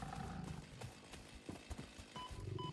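A creature in the video game Satisfactory snorts and grunts in rough, low bursts over a constant background rumble, close by and continuous for a few seconds.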